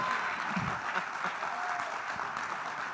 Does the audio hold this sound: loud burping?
no